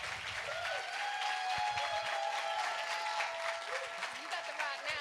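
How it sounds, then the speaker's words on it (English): Audience applause at a Women's History Month event, a steady, dense wash of clapping from a crowd with voices and cheers mixed in, sustained at even loudness throughout. "Give them a round of applause, everyone."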